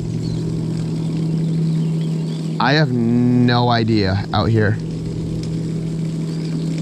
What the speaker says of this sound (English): there goes another boat running now.